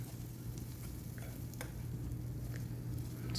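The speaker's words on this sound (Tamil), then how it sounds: "இது அப்படியே கொஞ்சம் ஃப்ரை ஆகட்டும் நல்லா" Semolina fries in a pan with a low, steady sizzle, a faint crackle and occasional stirring clicks, heard close up and quiet with no voices.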